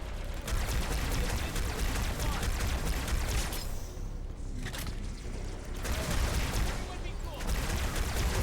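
Dense, continuous gunfire rattles in the Halo 2 video game as paratroopers are shot, with rapid bursts and brief lulls, a loud chaotic firefight throughout.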